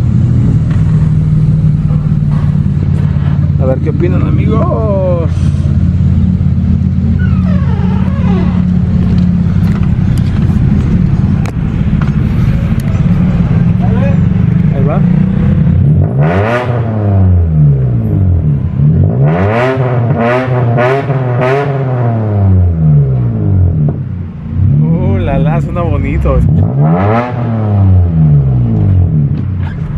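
Mitsubishi Eclipse fitted with a new exhaust system, idling with a low steady rumble before several sharp revving bursts rise and fall in quick succession, loud and close, with someone speaking briefly at the start.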